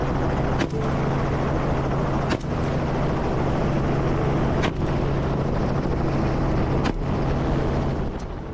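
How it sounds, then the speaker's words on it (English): A helicopter flies overhead with a steady, loud rotor drone and periodic heavy thumps recurring about every two seconds, with no talk. "helicopters allow hunters to cover vast areas in a short amount of time"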